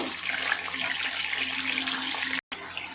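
Cut potatoes go into very hot mustard oil, which gives off a steady, dense sizzling hiss up close that cuts out for a moment near the end.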